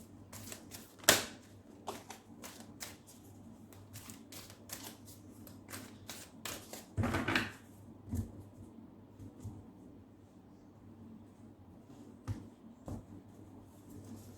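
Tarot archetype cards handled and shuffled close by, producing soft sharp flicks and snaps at irregular intervals with a longer riffling burst midway, over quiet room background.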